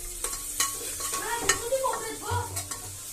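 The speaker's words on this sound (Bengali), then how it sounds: "তারপরে লং, এলাচ, দারচিনি দিয়ে আমি ওখানে তরকা দিচ্ছি।" Cloves, cardamom and cinnamon temper in hot oil with a light crackling sizzle, broken up by several sharp stirring clinks and scrapes of a spoon against the pan, close by.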